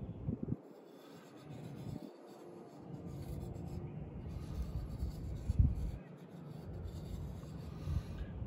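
A pocketknife scrapes and saws through material while cutting a triangle for a homemade hobo stove, with uneven rasping strokes broken by short pauses and a few sharp knocks, close and moderately loud.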